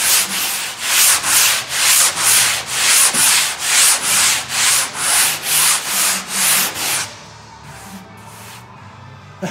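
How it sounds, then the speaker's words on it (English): Rhythmic back-and-forth sanding strokes on a turbine pressure plenum for a Wilga aircraft, about a dozen steady rasping passes close by, then fainter scraping and quiet handling noises. "But now I need to sand it."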